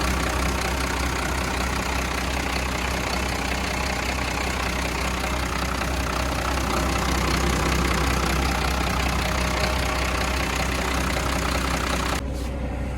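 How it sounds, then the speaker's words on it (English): A dry-sounding engine idles steadily, a constant loud mechanical drone heard up close that runs unchanged throughout with no voices. "Very dry engine."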